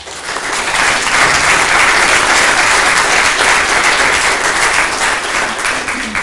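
Audience applause fills a township zoning meeting room, a dense, loud wash of many hands clapping that holds steady for several seconds without voices over it.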